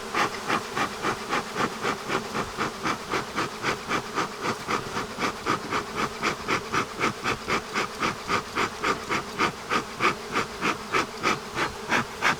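Honeybees buzz at a hive entrance in winter, the steady drone rising and falling in quick, regular pulses for the whole stretch, close and fairly loud, with no voices.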